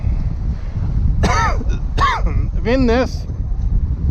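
Steady wind rushes across a microphone aboard a sailboat crossing Bjørnafjorden, a continuous low roar that runs the whole time under a voice and short throat-clearing noises.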